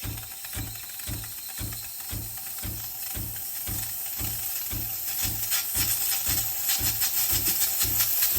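Sage espresso machine pumping water, with a steady rapid pulsing of the pump under a constant hiss, loud and close with no talk.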